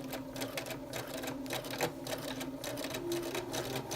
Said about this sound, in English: Okay, let's start stitching.